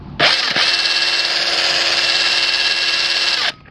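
A power drill set to drill mode, fitted with a large diamond core bit for marble, granite, tile or porcelain, whirs at a steady high pitch for about three seconds, starting abruptly and cutting off cleanly, loud and close.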